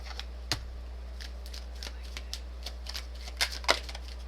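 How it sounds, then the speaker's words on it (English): A deck of tarot cards being shuffled up close, with a handful of crisp, irregular snaps and riffles over a low, steady background hum and no talking. "I'm going to pull a card from Whispering Woods."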